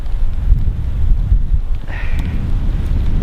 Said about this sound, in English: Big gust of wind hitting me right now.